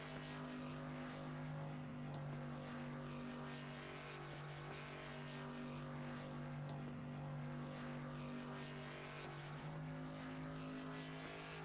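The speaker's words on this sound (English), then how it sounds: "Bobby's getting the engine temperature nice and warm in the cockpit of that machine. You hear the RPMs just sky high." A truck engine in a racing simulator at Kansas holds a steady, high-RPM drone with a strong low hum and a dense harmonic buzz, loud and unbroken throughout with no voices.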